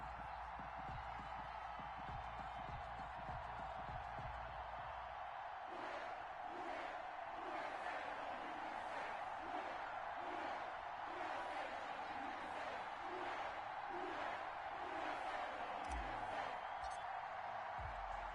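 Stadium crowd roars and cheers in an American football video game, a steady broad wash of noise with rhythmic surging chants building partway through, loud and continuous throughout.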